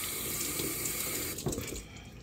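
Tap water runs steadily close up while tumbled agate rocks are rinsed off, a continuous splashing hiss that thins out and fades in the last moments.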